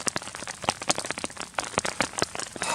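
Heavy torrential rain drums on a camping tarp at an alpine lake, a dense, close patter of sharp drop impacts that continues without a break.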